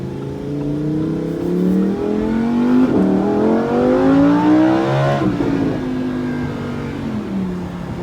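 A 2020 Lamborghini Huracan Evo V10 engine in Corsa mode revs hard, its pitch rising and then dropping sharply in quick, aggressive downshifts with crackling bursts, heard close up.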